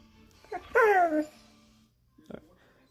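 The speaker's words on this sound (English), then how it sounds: "This is a German Shepherd." A German Shepherd indoors beside a hi-fi stereo setup lets out a brief whining yelp, loud and close, then stays quiet apart from a short faint noise a moment later.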